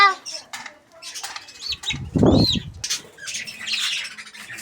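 A turkey at a mini zoo gives a sharp squawk mid-clip, close and loud, amid scattered chirps and rustling from other birds nearby.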